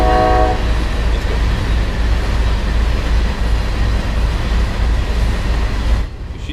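A long MBTA Boston commuter train in Train Sim World 5 rumbles steadily along the rails, loud and continuous with a deep low-end roar, a brief horn-like tone at the start and a drop near the end.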